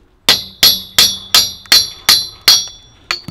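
A hammer whacks a metal scaffolding fitting eight times in a steady rhythm, each strike a loud, sharp ringing clang that decays quickly, close by and with no voices.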